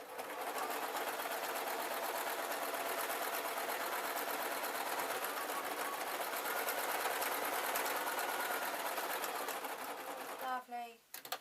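A sewing machine runs steadily while stitching a quilt, a loud, even motor whir holding for about ten seconds before it slows and stops near the end, with a voice talking over it.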